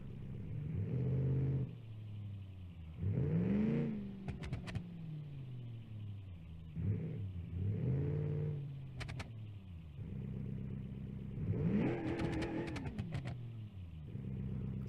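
Junkyard engine swapped into a car in BeamNG.Drive revving hard down a strip, rising and falling in repeated surges with sharp crackling bursts, loud and alone.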